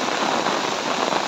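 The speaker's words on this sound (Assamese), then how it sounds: "চাৰিওফালে পানীয়ে পানী কেৱল পানী বৰষুণ ধাৰাসাৰ বৰষুণ" Torrential monsoon rain pours over flooded village land in Mishajan, Charaideo, Assam: a thick unbroken roar of droplets, close and loud, with no voices.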